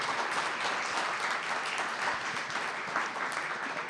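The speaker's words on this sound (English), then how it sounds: "I'd like you to give a big round of applause to Hitoshi Abe" Applause from a forum audience at a university event: continuous, moderately quiet clapping filling the hall at an even level throughout.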